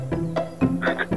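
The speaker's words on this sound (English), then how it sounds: "Ribbit, ribbit. I'm a frog." A frog gives a quick series of short croaks, about five or six close, distinct pulses in just over a second.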